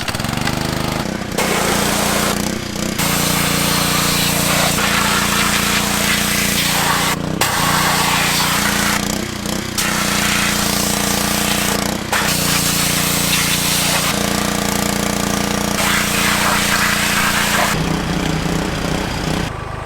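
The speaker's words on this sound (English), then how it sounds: "And that is how you pressure wash a motor." A pressure washer blasts an LS LM7 5.3 V8 engine during a teardown, a loud, steady, close hiss and motor drone running nearly continuously with a few brief pauses.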